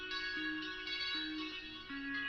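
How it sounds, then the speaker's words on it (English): A guitar run through a rotary effect, pitched up slightly and EQ'd, plays a short sequence of sustained notes with a swirling, chorused shimmer, steady and moderately loud with no talking. "I put some effects on this easy mix, this rotary. I did a pitch wheel where I pitched it up a little bit"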